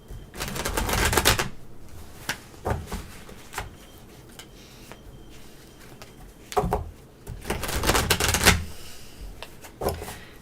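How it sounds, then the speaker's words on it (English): A deck of tarot cards is shuffled in several riffling bursts, each a quick papery flutter, separated by softer taps and pauses, close and fairly loud. "Let me shuffle this deck for Siama."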